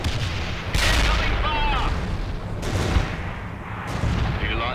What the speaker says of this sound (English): Medium artillery is available for you. Firing.